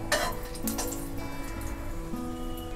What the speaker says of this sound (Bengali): এই তেলটা দিয়ে আমি ফোড়ন দিয়ে নেব। দিয়ে দেব 2টা শুকনো মরিচ